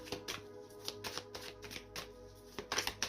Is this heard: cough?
no